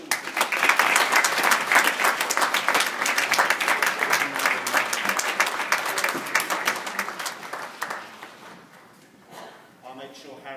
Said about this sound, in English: Let's give Nuri a round of applause, best in school.